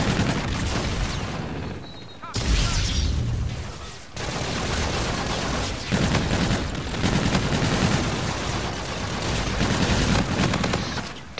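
Rapid gunfire in Call of Duty Infinite Warfare, bursts of automatic shots and booming impacts in a busy firefight, with a brief lull before the shooting resumes; someone talks over it.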